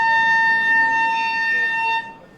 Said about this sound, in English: There indeed is the siren.